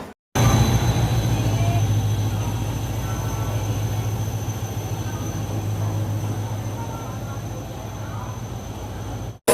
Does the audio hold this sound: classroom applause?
no